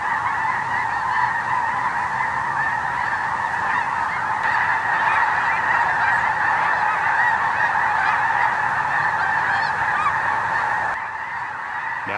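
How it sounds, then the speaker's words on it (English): A huge flock of snow geese, thousands of birds on a January hunt, honking continuously in a dense overlapping chorus that stays loud and steady throughout, with no voices. "Well, then the snow geese came."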